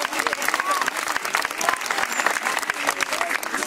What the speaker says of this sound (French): vous pouvez applaudir Nora pour cette démonstration